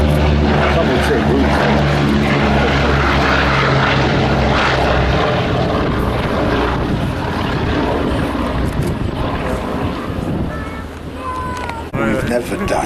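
Radial-engined propeller aircraft at the Duxford Flying Legends air show, a loud, steady rumbling drone of heavy piston engines held close for the whole stretch, with a voice talking over it.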